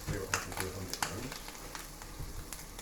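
Ham fries in a pan, turning crispy, with a soft continuous sizzle and a few sharp pops and crackles, quiet and close, with no voice over it.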